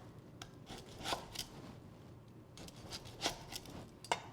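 A lemongrass stem is cut in a few crisp, quiet snips spread across the moment, each a sharp brief crunch against a soft room background.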